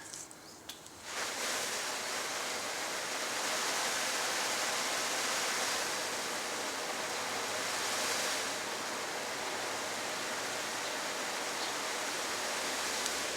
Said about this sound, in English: we're going to pour water on top of this tarp and see how she performs